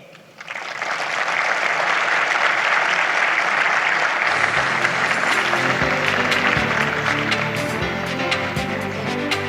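A conference audience breaks into steady, loud applause to welcome two speakers onto the stage for a fireside chat at the ARPA-E Summit, the clapping rising quickly and sustained throughout, with music starting partway through.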